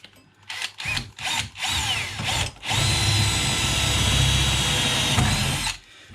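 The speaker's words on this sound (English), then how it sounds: "So I'm just drilling straight into the steel" A power drill bores straight into steel to fit a bracket to an Epson ET-8550 printer, first in several short whirring bursts, then in one long, loud, sustained whine before stopping.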